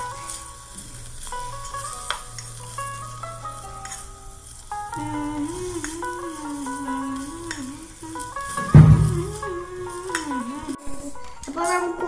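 Maggi noodles frying and being stirred in a miniature pot, a soft sizzle under background music with a brief louder scrape near the end.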